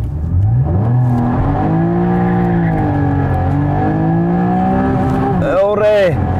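A 2013 Porsche Boxster in manual mode with traction control off accelerates hard in first gear, its engine note climbing steadily and loud throughout, then dropping sharply at a quick gear change near the end.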